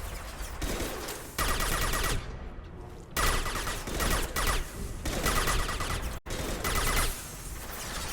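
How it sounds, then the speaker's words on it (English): Concussive shot fired in Mass Effect 2, heard as bursts of loud rapid gunfire broken by brief pauses and one sharp cut, amid battle noise. "Firing concussive shot."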